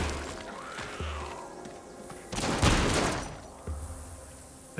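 Gunshots in the VR zombie game Arizona Sunshine ring out as a few separate sharp cracks, one loud blast in the middle, amid clunky handling noises.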